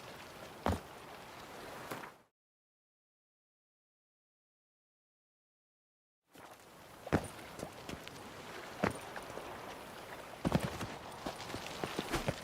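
Horse hooves clop on the ground in The Witcher 3 video game, with a short burst, a gap of silence, then a longer run of uneven thuds at moderate volume.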